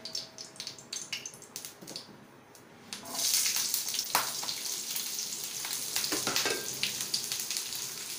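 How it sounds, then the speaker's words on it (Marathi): Onion dropped into a little hot oil in a pan, a quiet lead-in followed by a sudden loud, dense sizzle that keeps crackling steadily, close up, with no voices. "पॅनमध्ये मी घातलेले आहे थोडेसे तेल आणि त्यात टाकते कांदा."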